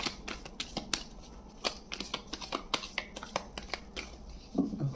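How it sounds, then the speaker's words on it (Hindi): Tarot cards being shuffled and handled in a series of crisp, papery riffles and flicks, close and fairly quiet, with irregular bursts and a soft thump near the end. "एंजल्स कह रहे हैं मैं ऐसे ही कुछ कार्ड्स निकाल लूं।"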